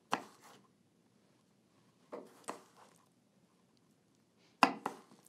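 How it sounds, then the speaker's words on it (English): A kitchen knife chops down through tough-skinned fruit on a board, giving a few separate crisp cuts: one near the start, a pair a couple of seconds later, and two more close together near the end, with quiet pauses between. "The knife is in between my fingers and I'm just going to cut right down."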